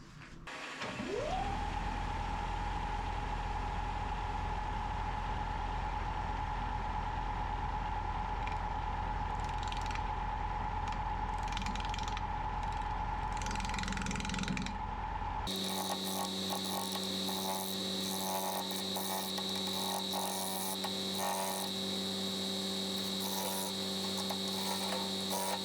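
A wood lathe spins a spalted apple burl bowl on the chuck at 1400 RPM, rising quickly to a loud, steady motor hum with a sustained whine that holds unchanged for about fifteen seconds before giving way to a different droning mechanical tone.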